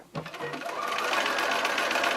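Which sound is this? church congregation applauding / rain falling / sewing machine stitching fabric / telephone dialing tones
sewing machine stitching fabric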